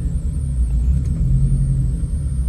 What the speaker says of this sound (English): don't mind the bump start I have to do